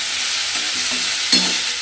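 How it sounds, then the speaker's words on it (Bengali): Cabbage being stirred as it fries in a pan, a steady broadband sizzle with a few soft spatula scrapes and one sharper clink of utensil against the pan near the end, no voices. "বাঁধাকপিটা আমি এর মধ্যে দিয়ে একটু নাড়াচাড়া করে নেব।"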